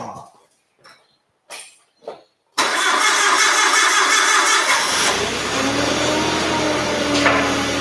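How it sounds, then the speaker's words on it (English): A forklift engine cranks and catches after a few short knocks, then runs loud and steady close by before settling toward idle. "turning the gas on for the forklift"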